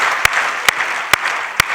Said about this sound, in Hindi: तालियां बजाओ फिर जरा